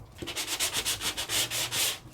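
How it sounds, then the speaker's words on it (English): Sandpaper rubs across color core paper in quick, rhythmic back-and-forth strokes, a close raspy scratching repeated about a dozen times in two seconds. "I can then take my sandpaper."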